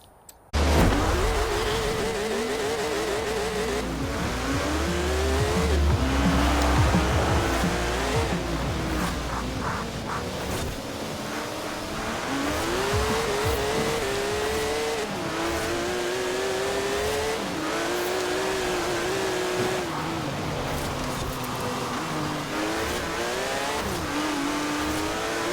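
A Porsche 928 GTS tuned to 1,000 horsepower with rear-wheel drive revs and accelerates hard in Forza Horizon 4, its engine note climbing and falling through repeated gear changes with tyre squeal, loud and continuous throughout.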